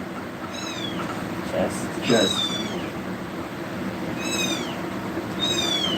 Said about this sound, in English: we have very annoying loud kittens.